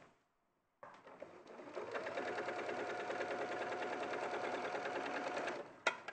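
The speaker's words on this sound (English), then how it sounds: "I'm going to sew up all those bits there." A sewing machine stitches a quarter-inch seam on fabric, sewing down toward the fold. After a short silence it starts up and whirs at a steady, even rapid rate before stopping with a final clunk.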